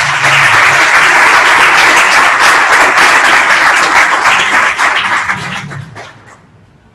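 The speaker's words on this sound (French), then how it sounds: "Je vous prie d'applaudir à nouveau le professeur." Loud, dense applause from a lecture audience for a professor, steady for about five seconds before thinning and fading out near the end.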